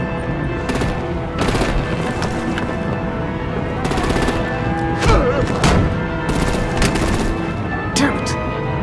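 Gunfire and artillery in Batman: The Enemy Within on PS4, with rapid automatic bursts and heavy booming hits repeating across a loud, busy battle scene, mixed with voices talking.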